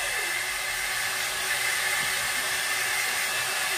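A hair dryer blows with a constant, loud whooshing hiss, running without a break from start to finish.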